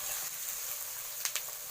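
Onions frying in a pan for mutton-fat ghugni, a soft continuous sizzle with a couple of brief crackles near the end, faint and close, with no voices.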